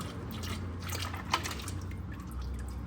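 Fluid gushes and splatters out of a car after five liters have been poured in, a close, continuous wet pouring and dripping with one sharper splash partway through.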